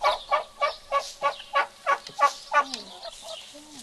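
Repeated rhythmic squawking from a chicken, about ten sharp calls in steady succession, fairly close, ending with a softer warbling call.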